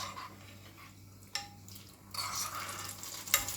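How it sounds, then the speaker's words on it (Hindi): Cashews frying in ghee in a pan, a low sizzle that swells into a brighter crackling hiss halfway through, with a couple of light clinks of the spoon and no talk. "तो मैं यहाँ पे थोड़ा सा काजू को घी में फ्राई कर रही हूँ"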